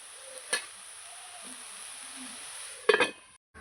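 Greens fry quietly in oil with garlic, giving a soft continuous sizzle, broken by a couple of sharp clinks of a utensil against the pan.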